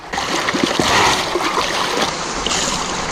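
Water gushes and splashes from a gravity dredge hose whose end cap has come off, a continuous loud rushing spray close by, with brief knocks and spatters mixed in.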